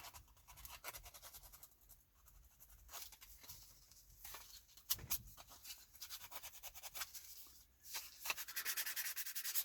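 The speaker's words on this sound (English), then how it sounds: "so I got the back of the building sanded, flat on here, flat on this side" An N scale model building of a saloon is sanded flat on its back and sides, giving close, quiet, uneven rasping strokes in irregular bursts with short pauses between.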